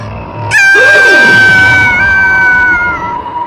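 A woman lets out a loud, sustained scream as she is thrown off a hill, a sharp high cry that starts abruptly and holds for about three seconds alone in a dramatized horror story.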